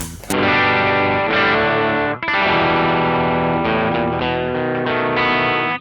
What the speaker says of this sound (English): drive the gain up a little bit. It's a completely different sound.